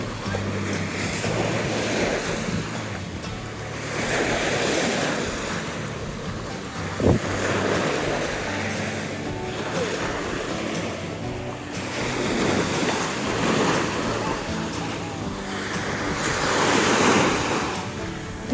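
Black Sea waves roll in and break on a crowded Odesa beach in repeated surges, with foamy wash and wind buffeting the microphone between swells.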